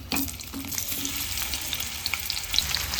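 A large onion frying in a spoonful of oil in a pan for veg pulao, giving a steady close sizzle with a few soft stirring knocks near the start.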